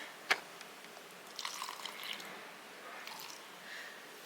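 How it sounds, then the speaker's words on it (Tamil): Water is poured into a mixer grinder jar while making a weight-loss recipe, a faint, short trickle and splash heard close by after a single sharp tap. "தண்ணி ரொம்ப ஊற்றிடாதீங்க."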